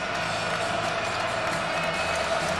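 A sold-out arena crowd at a Marquette versus DePaul college basketball game at the Bradley Center makes a steady, dense roar of cheering and clapping. It stays even for the whole short stretch, with no voices standing out.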